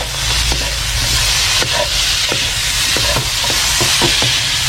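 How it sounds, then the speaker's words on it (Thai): Vegetable filling stir-fried in a pan after a spoonful of starch slurry is added, a loud steady sizzle and hiss with repeated scraping strokes of the spatula close by. "ผัดซ้ำนิดนึงครับ"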